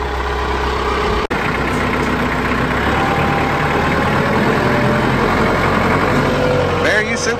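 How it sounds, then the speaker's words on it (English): A tractor engine idles close by with a steady, loud, low rumble and vibration that runs unbroken through the whole stretch, apart from one brief click near the start. "I can't get the tractor in without some assistance"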